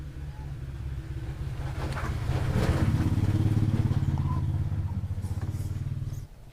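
Toyota Kijang engine with distributor ignition, started and left idling after an oil change, a steady low rumbling drone that swells slightly in the middle then drops off abruptly near the end, close and alone.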